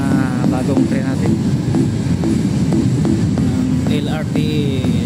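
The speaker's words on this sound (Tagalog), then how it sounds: "Ito yung mga bagong train natin" A new LRT Line 1 train rumbles through Baclaran station, a loud, close, continuous low mechanical roar with squealing wheel and brake tones, while someone talks over it.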